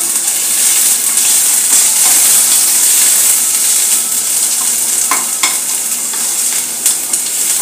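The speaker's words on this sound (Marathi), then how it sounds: "कांदा थोडा परतून घेऊया" Onions sautéing in a pan for dum aloo gravy, a loud steady frying hiss with scattered spatula scrapes and taps as they are stirred, close up.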